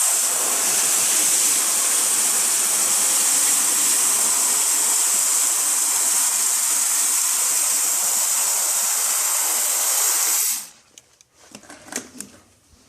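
Spray foam insulation hisses out of a nozzle inside a greenhouse in one long, loud, steady rush of spray that cuts off abruptly, followed by a few soft handling clicks and rustles.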